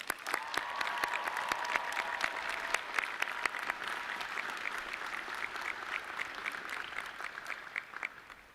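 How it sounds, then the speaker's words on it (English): An audience at a spring university commencement ceremony gives sustained applause, a continuous crowd of clapping with sharp individual claps standing out, holding for several seconds before gradually tapering off. "Let's give these amazing people a round of applause."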